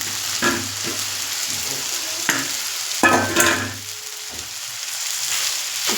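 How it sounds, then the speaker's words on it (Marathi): Sago pearls are tipped into a hot pan with peanuts, potato, tomato and green chilli for sabudana khichdi, then stirred, giving a soft sizzle with intermittent scrapes and clinks of the spoon close by. "आता इथे टाकत जाते साबुदाणा."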